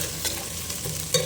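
Onions sizzling in hot oil in a pan for a village-style fish curry, a steady close frying hiss with a few scraping stirs of a spoon, no voices.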